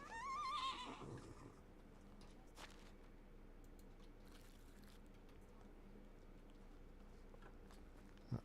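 A horse in the medieval video game Medieval Dynasty gives a loud whinny at the start, followed by faint hoof clip-clops and game ambience, with a sharp knock at the end.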